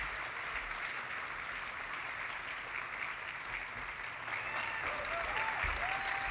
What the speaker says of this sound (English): Let's have one more round of applause for Randy.